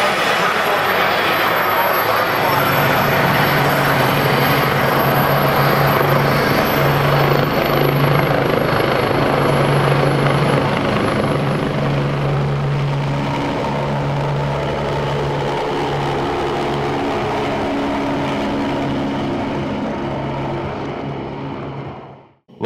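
A medical helicopter taking off roars loud and close at an emergency scene, rotor and turbine holding steady before fading away at the end.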